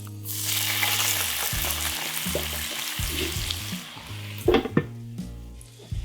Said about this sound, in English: touch of water, and this is going to allow it to steam very quickly